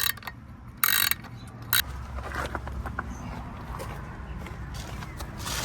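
Wrench unbolting a bolt on an Alpha 1 Gen 2 outdrive during a water pump replacement, giving sharp ratcheting clicks in short bursts, followed by faint metallic handling noises at close range.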